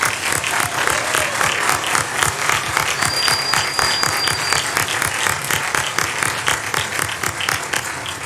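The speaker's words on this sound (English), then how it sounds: "Let's give them another round of applause." Audience applause for graduate students at a College of Education hooding ceremony, a steady, dense wash of many hands clapping that continues evenly for several seconds.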